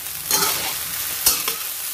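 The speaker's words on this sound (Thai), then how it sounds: "เราหรี่ไฟแล้วนะคะเราใส่วุ้นเส้นค่ะ" Glass noodles stir-fried in a hot pan over low heat, a steady close sizzle with a couple of sharper scraping stirs of the spatula.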